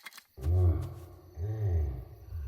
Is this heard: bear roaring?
yes